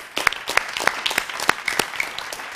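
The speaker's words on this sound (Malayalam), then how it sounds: "അപ്പോൾ ഈ ഒരു മനുഷ്യനോട് നമുക്ക് കൈയടിച്ച് ആദ്യം ഒന്ന് നന്ദി പറയാം" A quiz audience at a children's scholar competition breaks into brief, lively applause, many hands clapping together at close range.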